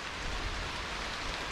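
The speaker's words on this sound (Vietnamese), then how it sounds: "Giờ ở trên đọt dừa bắt đầu có gió lần lần rồi, mưa tới rồi." Rain starts falling with wind through coconut palm leaves in the countryside, a steady dense hiss of drops and rustling with no voices.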